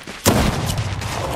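A single loud burst of gunfire from a Fortnite match cracks out near the start, followed by a sustained rumbling tail as further shots and game noise carry on at a steady level.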